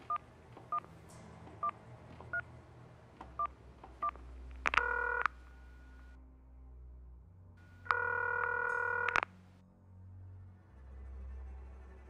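A mobile phone plays a quick series of short keypad dialing beeps, followed by two longer sustained tone bursts. The tones sound clear and close over quiet music.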